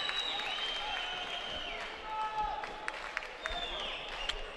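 A boxing crowd at the AIBA World Boxing Championships in Baku applauds and cheers with steady clapping and arena noise, while a commentator talks over it and whistle-like tones rise out of the crowd.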